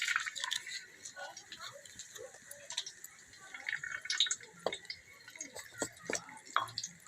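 Fresh bay leaves sizzle and crackle in hot oil in a home kitchen pan, a steady spatter with scattered sharper pops, while someone talks over it.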